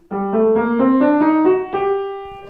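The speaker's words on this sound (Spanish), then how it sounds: "Bueno, la escala de sol menor armónica suena así." A short ascending G harmonic minor scale with an exotic augmented step, played as clean sustained notes on a keyboard-like instrument, each note clearly separated.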